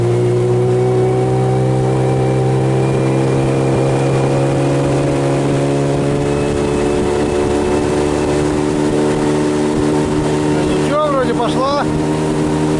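A loud, heavily loaded motorboat engine drones steadily and climbs gradually in pitch as the boat gathers speed, with a brief voice near the end.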